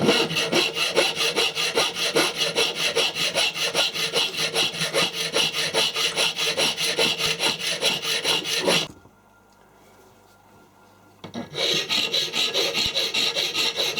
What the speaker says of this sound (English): hack all the big bits off with a coarse file